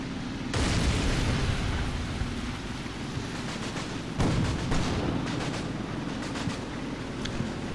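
Gunfire and artillery rumble through a Combat Mission wargame battle: a dense, continuous barrage of booms and bursts with a sharp, heavier blast partway through, loud and sustained without any voices.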